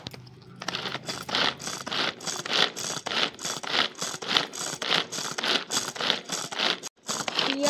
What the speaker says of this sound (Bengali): এখানে মা পেঁয়াজ কেটে নিয়েছে, এবারে বেটে নিচ্ছে চপারে।